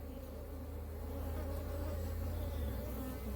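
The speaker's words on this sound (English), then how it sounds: "That is a scout bee who's found a supply, and here's another one doing it here." Honey bees fill the air with a steady, dense buzz at a hive frame in an apiary, a continuous close drone with no voices over it.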